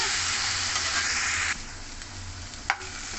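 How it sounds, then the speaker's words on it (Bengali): Salted potatoes fry in a pan with a steady broadband sizzle that drops somewhat halfway through, then a brief sharp clatter near the end, with no talking. "আলুতে লবণ দিয়ে ভাজলে আলুর ভেতরে লবণটা ঢোকে, খেতে ভালো হয়। আলুটা ভালো করে ভেজে নেব।"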